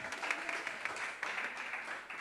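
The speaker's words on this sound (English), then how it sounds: "All right, round of applause for Noeline, ladies and gentlemen." Audience applause at the Adopting Bitcoin Cape Town 2026 conference on the Machankura stage, a faint, steady patter of clapping from a crowd in a hall, heard alone.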